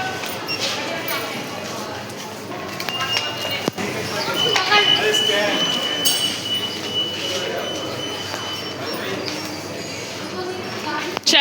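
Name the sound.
Kolkata metro train ride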